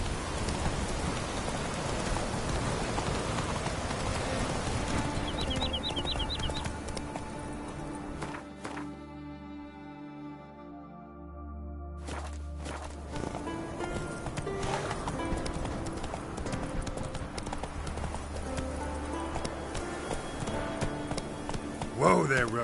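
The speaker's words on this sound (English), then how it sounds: "Whoa there, Roach" A horse gallops in a video game, its clip-clopping hoofbeats half buried under steady, loud rain that continues throughout, with a brief lull in the middle.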